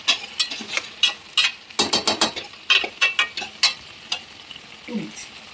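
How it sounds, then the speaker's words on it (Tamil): Chicken and tomato are stirred in a pan, heard as a rapid series of close, crisp scraping clicks in irregular bursts over a faint sizzle. "தக்காளி இதில் போட்டு நல்லா மிக்ஸ் பண்ணணும்"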